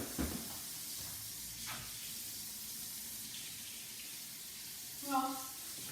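Hot water runs steadily from a kitchen tap into a sink, a soft, continuous hiss at low volume, with a brief voice and a clink near the end.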